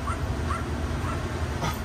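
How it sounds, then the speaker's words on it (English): A neighbouring dog barks a few times at a distance, the short yips landing over a steady low rumble of workshop background noise. "I thought that was my dog. It's the dog next door."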